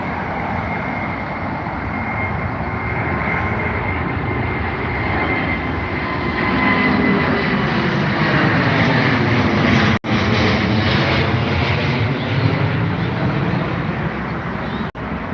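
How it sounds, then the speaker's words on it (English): A Virgin Atlantic Boeing Dreamliner takes off at Heathrow with a loud, sustained jet roar that swells and rushes past nearby, throbbing and shifting in pitch as it climbs away, with no voices over it. "Nice little Dreamliner for you guys."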